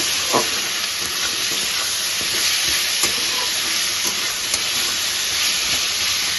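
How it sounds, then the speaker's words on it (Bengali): Potatoes and onions frying in a pan give a dense, continuous sizzle and hiss up close. Soft stirring knocks come through now and then, and no one speaks. "এবার আমি ভালো করে এটা ভেজে নেব আলু পেঁয়াজটা ভালো করে ভেজে নেব"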